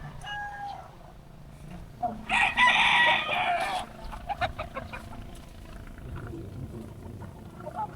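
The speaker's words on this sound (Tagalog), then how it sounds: "ang dami palang mga Manok panabong" Fighting roosters crow loudly outdoors in Barangay Alauli, Masantol, one long clear crow standing out mid-clip amid scattered clucks and other fowl calls, with background ambience and some speech.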